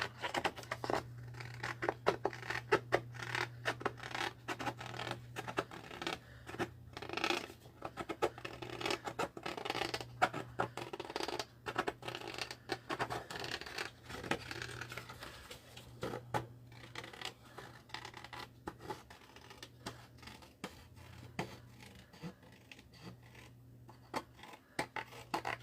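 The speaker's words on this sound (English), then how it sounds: "I'm going to cut that shape out" Scissors snip through paper in a long run of crisp, closely spaced cuts, steady and close, with a low hum in the background.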